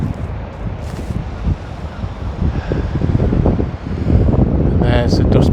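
Cold wind blows hard into the microphone outdoors, a loud, steady rumbling buffet that surges in gusts, with speech underneath.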